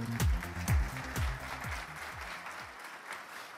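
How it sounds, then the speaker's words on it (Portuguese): A small audience claps for a model at an aesthetics and fitness presentation, a brief burst of close hand claps that thins out and fades within a few seconds. "palmas para o nosso modelo"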